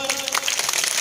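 Audience applause at a Gondwana victory festival with a state legislator present, a dense wash of many hands clapping continuously, moderately loud, with a voice faintly mixed in.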